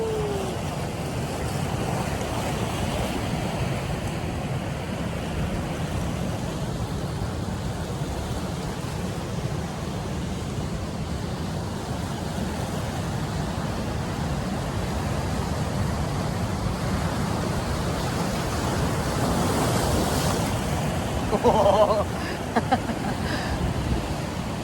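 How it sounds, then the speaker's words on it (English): Ocean surf rolling onto a beach at Tofino, British Columbia, a constant broad wash of waves mixed with wind, steady and fairly soft throughout, with a brief brighter splash near the end. "I had to come here and sit with the waves."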